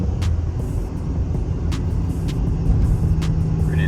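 A car engine held at about half throttle during a lighting kit install, a steady loud low rumble throughout with no talking.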